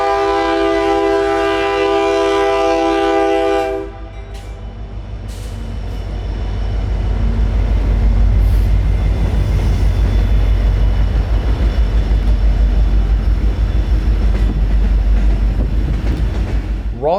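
An ethanol freight train, the local port job, rolls across a road crossing in Central Florida, opening with a loud sustained horn blast that cuts off, then a long steady rumble and clatter of railcars passing close by.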